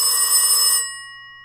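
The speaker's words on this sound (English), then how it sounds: "The phone rings." Telephone bell ringing as a sound effect: one loud, bright burst of bell ringing that stops abruptly, leaving a faint decaying tone.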